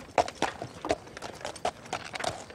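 Horse hooves clip-clop at a steady walking pace, a series of about eight sharp, moderately close knocks ringing out alone against quiet background noise.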